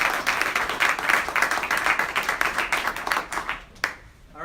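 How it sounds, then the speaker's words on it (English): An audience claps in a sustained round of applause for a colleague at a military commander's call, loud and steady throughout, thinning out and fading near the end. "round of applause for Rick"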